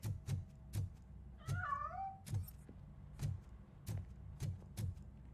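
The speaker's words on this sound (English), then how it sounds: "That cat must be hiding inside." A cat meows once in a drawn-out wavering call in the Robocop: Rogue City video game, heard alone over a low background with repeated soft thumps and knocks.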